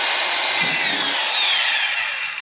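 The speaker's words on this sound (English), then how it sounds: "I'm just taking my time and let the drill do the work." A power drill grinds steadily through wood for a couple of seconds, loud and close, then stops abruptly.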